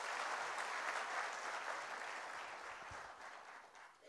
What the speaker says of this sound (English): So I think give them a huge applause,